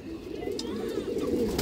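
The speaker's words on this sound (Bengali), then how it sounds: "একদম অরিজিনাল দর্শক ইন্ডিয়ান কালদম মাদি কবুতর।" Indian Kaldam female pigeon cooing close by, a soft throaty coo rising and falling over a low background hum, with faint speech-like sounds around it.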